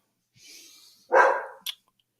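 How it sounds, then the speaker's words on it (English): A dog gives a short, loud, rough bark and then a brief higher yip after a faint breathy sound, close by and with no talking over it. "Sorry, I had to yell at the dogs there."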